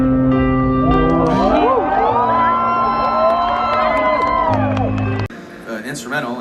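A concert crowd at a show sings the singer's part in unison, a big sustained wall of voices with cheers and whoops before the singing cuts off abruptly near the end.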